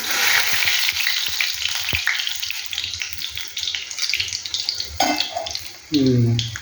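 Vada batter frying in hot oil, shaped by a single hand, gives a steady close crackling sizzle with brief clinks and stirring, then a louder burst of bubbling as a fresh piece drops in near the end.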